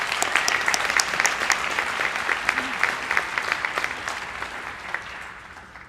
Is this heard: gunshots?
no